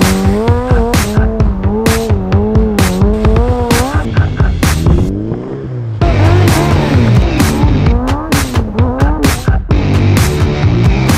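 A car drifts around a cone on a practice course, its engine revving loudly and rising and falling as the tires squeal through the slide, continuous and close throughout.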